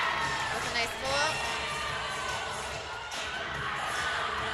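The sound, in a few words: crowd cheering at a cheerleading championship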